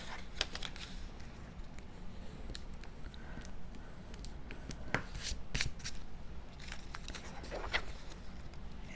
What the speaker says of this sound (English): I'm just folding this on the score lines